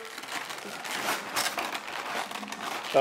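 Close, crackling rustles of tape being pulled and crumpled, irregular and busy, ending with a brief tonal sound.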